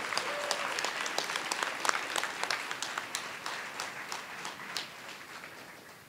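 A room full of people at a school board meeting clapping for fourth graders, loud at first and gradually thinning out as the applause fades.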